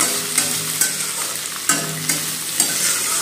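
Chopped bell pepper and onion frying in a pan, close, loud sizzling with several scraping stirs at roughly half-second intervals.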